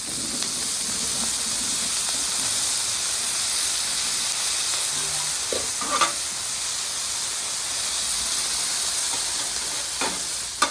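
Onions sizzling on a hot griddle, a loud, steady broadband hiss filling the whole stretch, with a couple of brief scraping clicks near the end and no talking.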